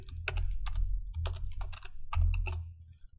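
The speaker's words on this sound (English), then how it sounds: "if I type this incorrectly," Typing on a computer keyboard while working in Microsoft Word 2010, a quick uneven run of close, crisp key clicks in short bursts over a low background hum.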